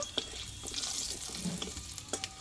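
Panch phoron, a bay leaf and a dry red chilli frying in hot oil: a quiet, steady sizzle with scattered small pops and a few soft stirring scrapes, with no talking.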